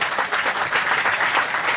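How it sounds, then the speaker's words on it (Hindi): Dense, steady applause from an audience at a youth club meeting in Bihar, honouring Karanjit after he came second in a vote, with sustained clapping continuing throughout without a break. "उनके लिए एक बार जोरदार ताली बजाइए।"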